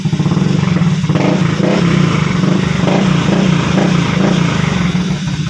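A repaired motorcycle engine, once sounding like a boat motor, runs loud and close at a steady idle. Its even, throbbing putter continues without pause and no voices are heard.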